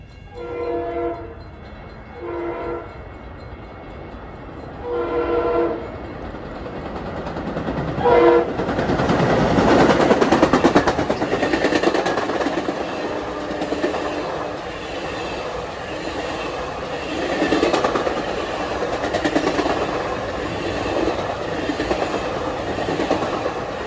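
An M3 Long Island Rail Road commuter train approaches the New Hyde Park Road crossing, with several loud, clear horn blasts followed by a swelling rumble and wheel clatter as it passes close by.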